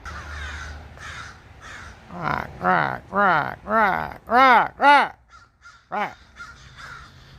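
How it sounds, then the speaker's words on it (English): Several crows caw outdoors, loud and close, in a series of harsh repeated calls, and someone speaks briefly. "The birds."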